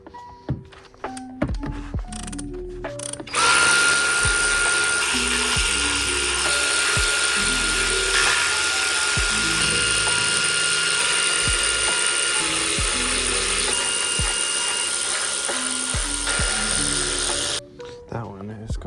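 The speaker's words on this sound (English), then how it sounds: "That one is going to need a wrench" A wrench ratchets steadily on the VVT solenoid bolts of a 2014 Ford Focus SE, a long run of close clicking that starts and stops with a few metallic knocks, with some talk.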